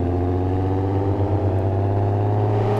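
A Volkswagen Golf V engine in a video game mod holds a steady, droning rev for a few seconds, loud and close with a constant buzzy tone and no speech.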